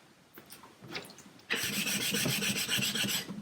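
A knife edge rubs over a sharpening stone, first with a few soft strokes, then a loud, continuous rasping scrape that runs close up to the end.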